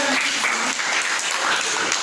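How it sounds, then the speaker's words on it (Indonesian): A classroom of students claps for a classmate, a dense, steady round of applause at close range that carries on evenly for the whole stretch. "tepuk tangan dulu untuk Gracia."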